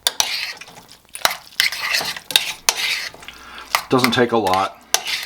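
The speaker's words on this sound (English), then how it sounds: "I'm going to take some Thousand Island dressing and mix in with it" A spoon stirs warm sauerkraut mixed with Thousand Island dressing in a pan, giving wet, squelching scrapes and clinks in bursts, close and fairly loud, with someone speaking briefly near the end.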